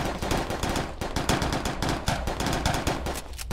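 Continuous machine gun fire in a video game, rounds striking the ground, loud and close with a steady rapid rhythm of shots throughout and no talking.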